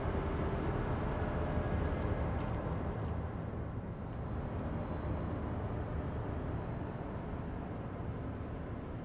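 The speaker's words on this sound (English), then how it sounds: "okay, so my train just left" A train departs in Train Sim World on the Great Western Express, a dense continuous low rumble and rolling drone that holds steady, with faint high squeals on top.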